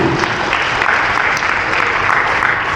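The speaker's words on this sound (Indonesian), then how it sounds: "Tepuk tangan untuk Marici dulu" Loud, continuous applause fills a hall during a Marici Bodhisattva homa blessing ceremony. The dense clapping holds steady and close throughout the clip.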